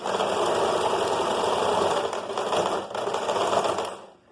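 Sewing machine stitching along a sleeve cuff with folded bias binding, a steady loud mechanical whir that stutters briefly near the end as it reverses into a backstitch, then stops.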